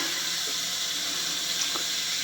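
Water from a camper shower runs down the drain toward the waste tank in a continuous close rush, with a few faint knocks and splashes over the steady flow.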